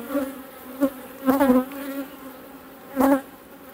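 Honey bees buzz at the hive in close, uneven bursts: short droning swells rise and fade over a steady low hum, with two stronger clusters of buzzing standing out.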